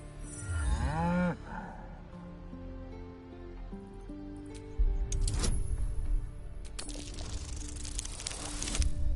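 A cow in the fantasy video game Baldur's Gate 3 lets out a loud, close moo at the start, followed by game music and rustling, clattering ambience.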